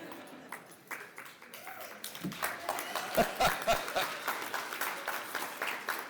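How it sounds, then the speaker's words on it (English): An audience claps at a Hall of Fame induction ceremony, a moderate, sustained patter of many hands in a large hall, rising slightly in the middle and continuing throughout. "I do see all the women are the ones that are actually clapping on that one"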